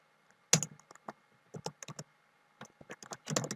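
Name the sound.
computer keyboard typing in game chat (Minecraft Skyblock)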